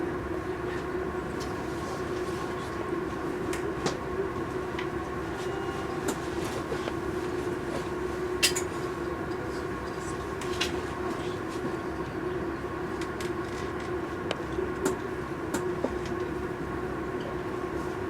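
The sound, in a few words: train riding on rails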